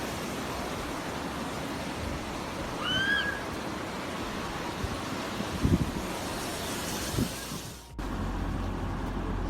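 A mountain river in Dagestan rushes toward a waterfall as a continuous roar, with wind buffeting the microphone and a brief dip near the end; nobody talks.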